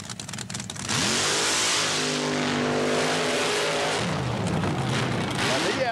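A nitrous-oxide-injected mud racing car roars across a mud pit at a 1990 Panama City meet, its engine screaming loud and steady with rising and falling revs, with an announcer talking over the din.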